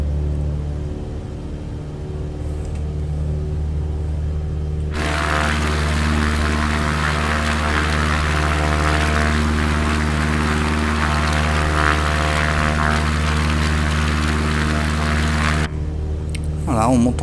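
An ERCO 415 light plane's propeller engine in Microsoft Flight Simulator idles with a steady drone, then surges to a loud, roaring full-throttle buzz for about ten seconds before dropping back down.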